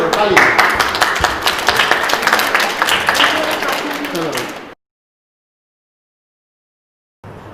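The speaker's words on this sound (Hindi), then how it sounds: "ताली।" A group of children claps together in a class session, a dense burst of applause lasting several seconds before dropping out to silence, then resuming briefly.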